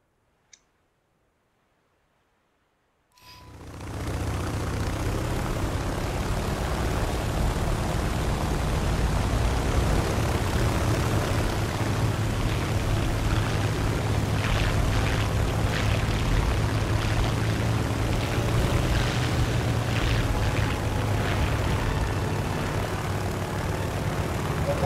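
After a brief silence, the propeller engine of an F6F-5 Hellcat fighter in War Thunder roars up and holds a steady, loud, dense drone with faint clicking over it, with no talking.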